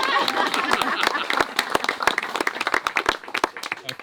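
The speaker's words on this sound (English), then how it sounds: "We all quickly give Tom a clap for going through all of that heartfelt, mucky stuff" Wedding guests clapping in a dense round that thins into scattered individual claps toward the end, fairly close and moderately loud.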